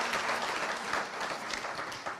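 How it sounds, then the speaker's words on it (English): Audience applause at an NGOs Week 2024 event, a fairly steady wash of many hands clapping from a crowd, moderately loud and continuous with no talk over it. "A clap for those NGOs."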